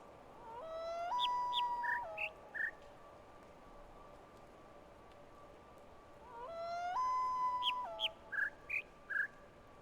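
A synthetic bird song plays as an audio puzzle in The Witness, two repeating phrases each made of a rising warble and then five short chirps, clear and fairly close over a soft outdoor hush.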